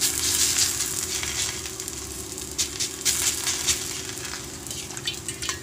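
Bhajani thalipeeth flatbread frying on an oiled griddle produces a close, steady sizzle with crackling pops, plus a constant low hum underneath.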